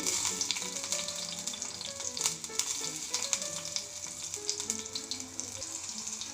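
Steady sizzling and crackling of cumin seeds and green chilli frying in hot oil, fairly loud and continuous, with a few faint clinks of a utensil.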